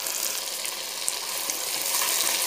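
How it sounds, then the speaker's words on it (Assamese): Potatoes and meat simmer in a pot as pumpkin pieces go in, giving a steady, close hiss of bubbling and sizzling that stays even throughout with no voices. "আলুখিনি প্ৰায়ে সিজিছে। অলপমান সিজাৰ পিছত এতিয়া কোমোৰা কেইটুকুৰা দি দিছোঁ।"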